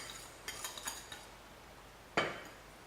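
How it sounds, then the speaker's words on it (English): Butter being mixed with icing sugar in a bowl for a cake: several light clinks and scrapes of a utensil against the bowl, then one sharper knock, fairly quiet with no talking. "The next step, I mix the butter with the icing sugar and give it a good mix."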